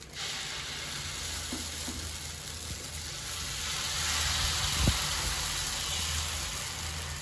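Tomato dosa batter spreads on a hot tawa greased with oil over low flame, giving a steady soft sizzling hiss that swells slightly midway, with a single faint clink.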